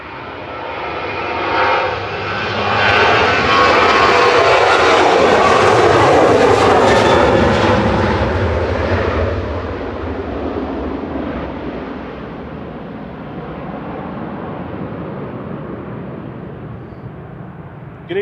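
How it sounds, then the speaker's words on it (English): A Ryanair Boeing 737-800 departing Manchester Airport, its jet engines swelling into a loud, broad roar that peaks and then fades steadily as the plane climbs away into the distance. "Ryanair Flight 1266 over to Agadir going next."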